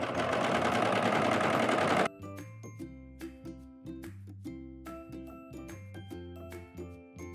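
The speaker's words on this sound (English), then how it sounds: "So first I'm gonna be serging together the center back seam." A serger sews the center back seam of bloomers in a brief loud burst of fast mechanical whirring, which then stops. Soft background music follows.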